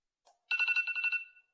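A new mobile phone rings during an online city council meeting, giving a short electronic ringtone burst of rapid pulsing trills that fades out quickly.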